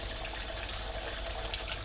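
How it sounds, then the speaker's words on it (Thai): Tap water runs into the housing of a Simplus water filter, making a steady, fairly loud rush that continues without pause. "วิธีแก้ให้คุณเปิดน้ำแบบนี้ แล้วก็ เอามือ ดันให้น้ำเข้าไปตรงนี้นะครับ"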